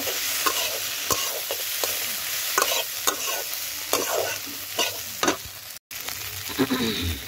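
Spices, onion and tomato sizzle and fry in a pan for a puti fish curry, with a steady hiss broken by repeated sharp scrapes and clacks of a spoon stirring, close and fairly loud, no talking.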